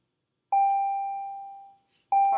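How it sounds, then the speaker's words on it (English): A single bell tone rings out once, clear and sustained, slowly fading over about a second before a voice resumes, heard during a geometry lesson. "Pardon that bell."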